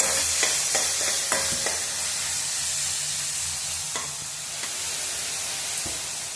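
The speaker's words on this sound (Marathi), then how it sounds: "आता मी फुल गॅसवरती कांदा परतून घेते" Onion sautéing in a pan over a full gas flame, a steady loud sizzle throughout with a few sharp clicks from stirring and no talk.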